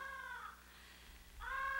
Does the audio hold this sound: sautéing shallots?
no